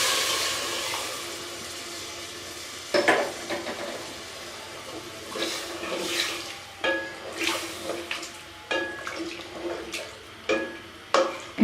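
Aloo gosht of potatoes, meat and spices being stirred in a pot with added water, giving repeated wet sloshing and scraping strokes at a close, moderate level with a soft sizzle underneath.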